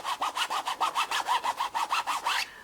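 Nylon school-bag fabric on a planner cover rubbed back and forth in a steady run of about thirteen scratchy strokes, close and fairly loud, alone before fading out.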